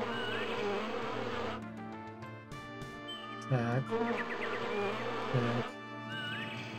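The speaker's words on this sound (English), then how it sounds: "Hive of mud wasps." Buzzing mud wasp hive in the video game Grimoire: Heralds of the Winged Exemplar, a steady droning insect hum layered with game music and chirping tones, with brief spoken words over it.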